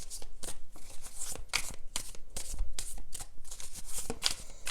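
Tarot cards shuffled by hand in a steady run of crisp riffling bursts, close and fairly loud, with no talking.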